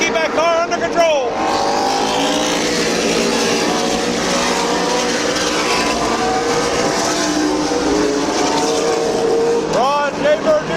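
Loud, sustained engine roar from race cars circling Midvale Speedway, with pitch sweeps as individual cars pass close by, and an announcer talking over the racing throughout.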